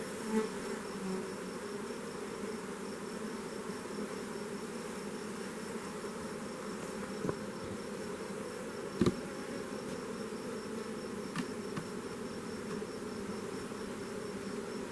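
Honey bees buzzing over black hive comb filled with pollen and nectar, a quiet continuous drone with a few faint clicks and knocks, heard close with no voices.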